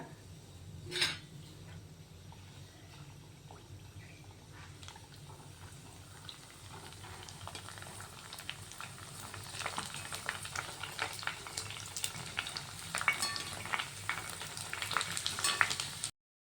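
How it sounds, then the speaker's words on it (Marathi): Puris for pani puri frying in hot oil: a low bubbling sizzle that starts quiet after a single sharp knock and grows steadily louder and more crackly toward the end. "तेल गरम झालेलं आहे तेलामध्ये आपण आता पाणीपुरी तळून घेऊया"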